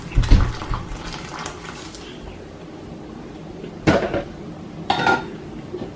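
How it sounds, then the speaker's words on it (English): Water poured into a cooking pot holding lemon fiber while making a drink: a splashy clatter at the start, a steady wash of sound, then two short, sharp knocks of the pot and lid, close by. "And I'll add more water."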